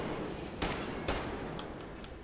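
Gunfire inside a hall in the video game Metro Exodus: a couple of sharp shots ring out over a constant loud noisy wash, with fainter reports echoing afterward.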